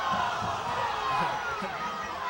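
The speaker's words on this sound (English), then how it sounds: "The crowd going crazy" A crowd cheers loudly at the 2012 Wayne Hills vs PCTI girls' basketball county final. A continuous dense roar of shouting voices fills the gym, with footsteps and court noise underneath.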